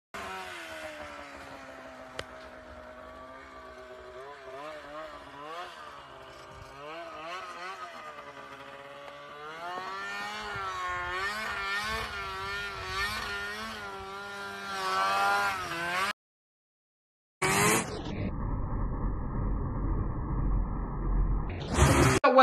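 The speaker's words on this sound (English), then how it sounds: "Weston here is a 2001 RMK 550, and for being a 550, that exhaust sounds extremely good on this sled" A 2001 Polaris RMK 550 snowmobile runs while ridden, its exhaust droning with a buzzy engine tone that rises and falls as the throttle changes, then cuts out briefly before a steadier, higher stretch.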